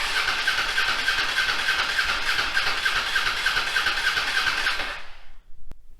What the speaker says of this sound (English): When I cut the key on and try to crank it, try choking it.